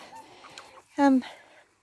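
A Rhode Island Red hen gives a short, clear cluck close by, with soft background noise and faint murmuring before and after.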